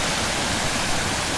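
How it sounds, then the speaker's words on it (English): Mountain water streaming down on the approach to Scafell Pike via Mickledore, a steady, loud broadband rush like a waterfall or stream, continuous and close with no voices. "I've had this very, very pleasant sound of the water streaming down"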